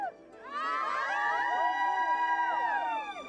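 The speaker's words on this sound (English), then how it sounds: "Cheering women greet the guests" Women cheering to greet wedding guests in Papua New Guinea: a chorus of high, wavering voices swells after a brief lull and holds loud and steady for several seconds before easing off.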